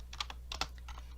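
Several computer keyboard keys, including F5, are struck in a quick, uneven sequence of crisp clicks, close to the microphone over a low steady electrical hum.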